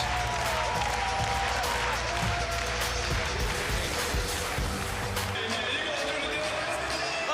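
A home crowd at an Iowa State Cyclones versus TCU basketball game applauds and cheers, a dense, loud wash of clapping filling the arena throughout, with an announcer's voice talking over it.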